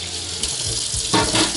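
Tap water runs into a sink for rinsing, a close, loud, hissing stream that swells briefly as the flow shifts.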